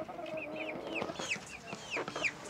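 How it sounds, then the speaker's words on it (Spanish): Five-month-old Carioca and white chickens cluck and squawk close by, with a run of short, repeated calls rising and falling over a couple of seconds and no talking. "Como la gallina que está ahí."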